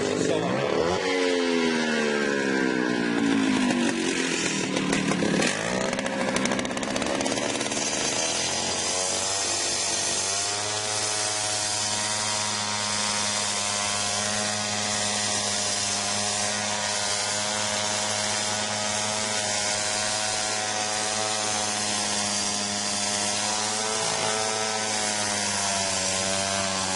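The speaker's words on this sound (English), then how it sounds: "So Dad is going to cut that with a saw." Power saw cutting through natural flagstone for a patio, a loud sustained engine whine with shifting pitch as the blade bites into the stone, running continuously throughout.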